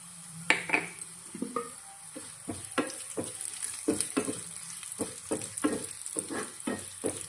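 Half a spoon of mustard seeds crackling and sizzling in hot oil for a lentil and eggplant dal tempering, with sharp pops over a steady hiss and a few spoon scrapes against the pan, close and without talk.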